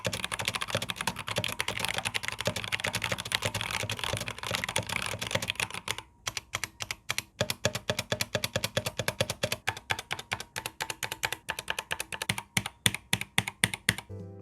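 Fast typing on a Womier/Gamakay K87 mechanical keyboard with Cherry Brown switches, first a dense continuous clatter of keystrokes, then slower distinct clicks and thocks, close up with no talking.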